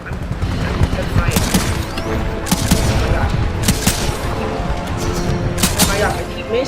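An EVA-8 auto shotgun fires in a video game in loud, repeated blasts spaced across the stretch, mixed with other gunfire and game sounds, with speech faintly underneath.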